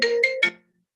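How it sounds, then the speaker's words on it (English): A mobile phone's ringtone plays through a connected computer as a short, bright three-note chime, clean and close, then cuts off into silence. "that's my phone connected to my computer, and I couldn't stop it"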